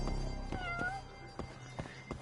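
A cat meows in the video game Judgment, a single rising and falling meow heard up close over a steady game background hum, with soft thuds around it.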